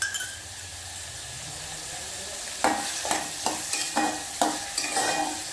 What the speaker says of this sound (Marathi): त्याच्यामध्ये तेलामध्ये कांदा फ्राय करणार